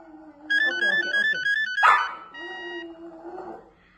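A landline phone sounds its stepped electronic ringtone while a dog barks and yelps sharply at it, close and loud, then whimpers and whines as the tones go on.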